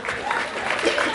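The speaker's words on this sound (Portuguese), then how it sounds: "Palmas." Crowd clapping at a street rap battle, a short burst of dense applause with mixed voices in the background.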